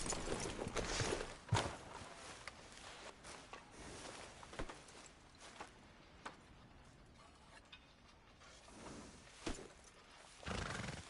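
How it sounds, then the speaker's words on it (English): Horse in Red Dead Redemption 2 whinnying and snorting, with scattered hoof clops and gear rattles in faint, irregular bursts. "get that horse out of here!"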